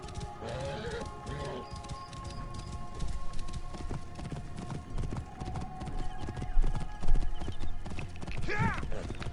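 Horse hooves pound at a gallop in Assassin's Creed Origins, a fast, steady clip-clop close by that runs throughout, with a neigh and other game sounds near the end.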